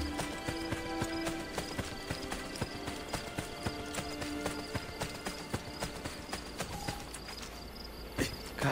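A horse gallops in Assassin's Creed: Brotherhood, its hooves beating a quick, steady clip-clop over game music that continues throughout, with a louder thump near the end.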